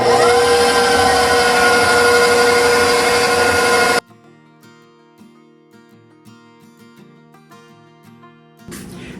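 Stand mixer blending flour and salt for buttery sweet Hawaiian rolls, a steady loud motor whir for about four seconds, then cutting off to near silence with faint clinks before a brief burst of noise at the end.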